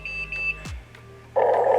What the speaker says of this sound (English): 3 beeps, that means it's on.